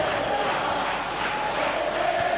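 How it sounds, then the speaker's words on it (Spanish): Ironic applause from a basketball crowd at an Argentine TNA semifinal in 2004/05, a steady wash of clapping and crowd noise that continues evenly, with a faint tone running underneath. "Ahí está el aplauso, en este caso irónico."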